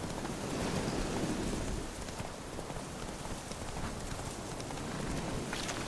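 Roach the horse trots along in The Witcher 3, hooves clip-clopping in a soft, steady rhythm beneath a constant rain-like hiss.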